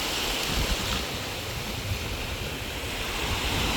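Steady seawater washes at high tide along the shore at Ras Al Khaimah in the UAE, with a constant rushing surf and light wind noise and no talking.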